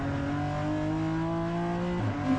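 BMW M4 GT4 Evo race car accelerating through the gears in a GT4 race at The Bend, the engine note climbing steadily then dropping at a gear change near the end, loud and continuous with no talk.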